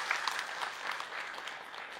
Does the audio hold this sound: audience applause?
yes